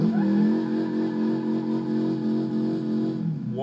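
A steady, droning car engine from a BeamNG.drive mod, mismatched with a Piccolina engine sound, hums at a constant pitch for a few seconds, then cuts off abruptly.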